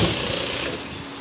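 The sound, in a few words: sewing machine stitching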